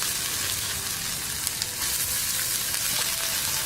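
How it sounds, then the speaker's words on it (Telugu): Moong dal fries in a spoonful of oil in a small pan over the stove, giving a steady, dense hiss of sizzling with a few faint crackles and no talking. "దానిలో ఈ పెసరపప్పును వేసి వేయించేసుకుందాం."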